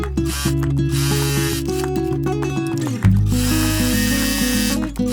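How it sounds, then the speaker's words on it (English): Sewing machine stitching doubled fabric around the edge of a DIY travel pillow, a loud steady mechanical whir that briefly stops near the middle and starts again, close and alone with no voices. "Since I doubled the fabric, I'm going to sew it all the way around"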